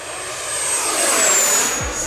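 An FMS Rafale 80mm electric ducted-fan RC jet passes overhead with a loud, steady rushing whine that swells and fades slightly across the pass.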